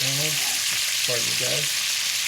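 Food searing in a hot pan gives a steady, close sizzling hiss throughout, with a person briefly talking over it.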